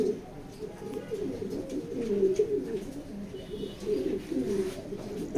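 Racing pigeons at a pigeon loft coo in low, throaty, overlapping calls that carry on continuously and close by, with a faint rustle in the background.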